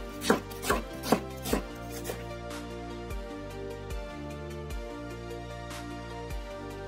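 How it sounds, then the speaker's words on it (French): Knife chopping vegetables and onion finely on a board for a chicken and vegetable dish: a quick run of four sharp chops, then slower, softer cuts spaced out over a steady low background. "On tâchera d'émincer ces légumes finement pour pouvoir les cuire rapidement."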